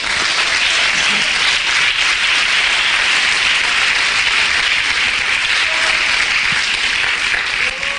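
A church congregation applauding at a Venezuelan evangelical service, a steady, dense wash of clapping held at even loudness for the whole stretch, with no pause or talk breaking through.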